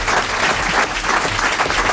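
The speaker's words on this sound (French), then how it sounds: "on peut l'applaudir" A studio audience on a French comedy show breaks into loud, close, continuous clapping that holds steady for a couple of seconds without any speech.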